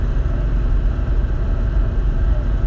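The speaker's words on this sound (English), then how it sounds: "You can actually hear that air-cooled engine, like the hair dryer classic sound" An air-cooled Porsche 964 Turbo engine drones on steadily, a loud, close low-pitched rumble with no pauses or voices.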